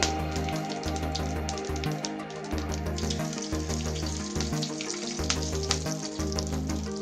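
Curry leaves and mustard seeds sizzle and crackle steadily in hot oil for a tempering for a dal and spinach curry, with a dense continuous fry and a low pulsing hum underneath, close and fairly loud throughout.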